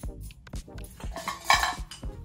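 A titanium camping pot and spoon knock together in a quick string of light clinks and scrapes, close up, with one brighter ring near the middle.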